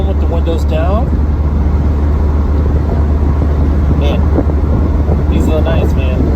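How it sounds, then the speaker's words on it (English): A 1999 Honda CR-V 5-speed AWD cruising with the windows down on a warm evening, filled with steady, loud wind buffeting and low road rumble throughout, with faint voices or tones surfacing now and then. "I get to enjoy my nice ride home with the windows down."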